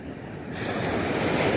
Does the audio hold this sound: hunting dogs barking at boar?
no